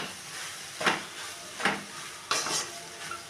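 Cooked rice is mixed into egg fried rice in a hot pan, with three distinct stirring scrapes rising over a soft, steady sizzle, close and moderately loud.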